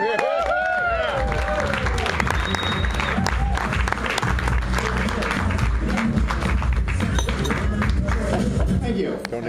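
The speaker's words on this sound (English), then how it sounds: "let's give a big round of applause for Mr." A comedy club audience gives comedian Tom Dean a big round of applause as he takes the stage, dense clapping and cheering throughout with a host's voice and crowd noise mixed in.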